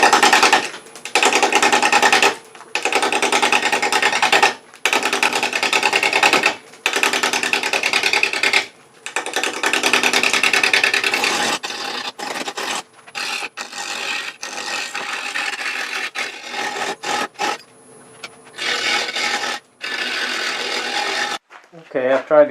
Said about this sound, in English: Turn it up until the lathe starts quivering.